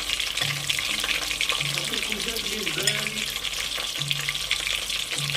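Zucchini flower fritters sizzle steadily in a hot pan, a continuous close crackle with occasional soft stirring and clinks, and brief low murmurs of talk beneath.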